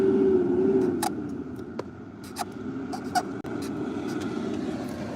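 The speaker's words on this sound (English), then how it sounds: "No music today, my friends, just traffic noise." Steady traffic noise rumbles in the background at moderate distance, a continuous low roar with a few faint clicks and scrapes on top and no clear voices.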